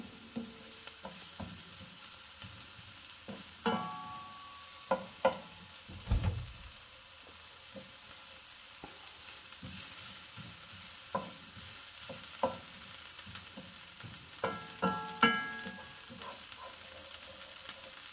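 Onions frying in a pan for a bolognese sauce, a faint low sizzle with intermittent scraping and clicking as a utensil stirs them, close and quiet, no talking.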